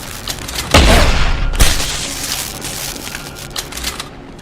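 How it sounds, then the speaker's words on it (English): Gunshots in the video game Deus Ex: Human Revolution, dense rapid bursts of firing with two heavier booming blasts early on, loud and continuous throughout. "Fucking gunshots!"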